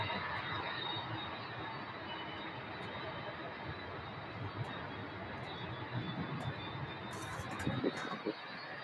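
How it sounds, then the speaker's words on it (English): A Southwest Boeing 737-700 jet bound for Denver rolls for takeoff at Louisville airport, a steady broad engine roar heard from a distance that holds throughout with faint wind noise. "we have a Southwest 737-700 going out to Denver, Colorado. That'll be first for takeoff"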